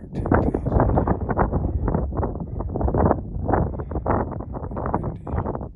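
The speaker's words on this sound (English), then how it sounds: "Windy. Probably won't be able to hear anything." Strong wind gusting across a high mountain ridge near 13,000 feet on a trail hike, a loud continuous roar buffeting the microphone in surging pulses throughout.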